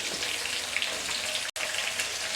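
Onion, green chilli, curry leaves and garlic fry in a pan with a steady, close crackling sizzle that drops out for a split second, with no voices.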